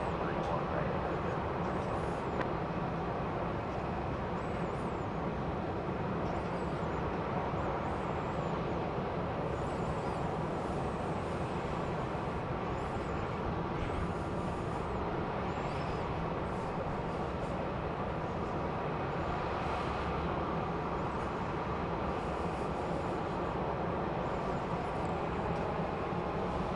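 Airliner taking off from runway 31 right at Dallas Love Field at daybreak: a steady, sustained jet engine roar lasts throughout, broad and even, heard from the distance of a spotting position.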